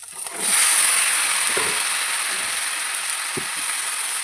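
Freshly cut vegetables and potatoes hit hot oil in a pan with a sudden loud hiss that settles into a steady, close sizzle, broken by a couple of faint utensil clinks.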